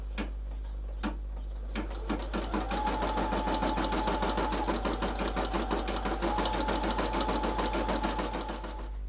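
Brother 380D embroidery machine stitching a design onto a T-shirt, a rapid, steady run of mechanical needle clicks with a continuous motor whine, loud and close, after a few separate knocks at the start.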